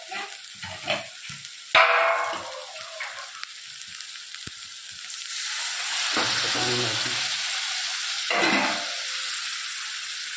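Red chili, turmeric, coriander-cumin powder, asafoetida, garam masala and salt roast in a pan with black-eyed peas. A few clinks and stirs come first, then a steady, close sizzle with faint voices.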